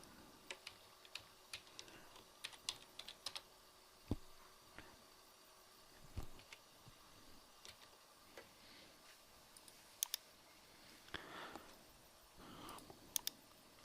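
A computer keyboard clicks in scattered bursts while text is entered into an Excel chart, quiet close keystrokes with pauses and a few louder taps, with no talking.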